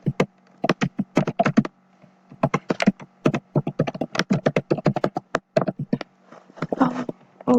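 Computer keyboard typing in quick bursts of crisp, close key clicks with short pauses, steady and moderately loud, with no talk.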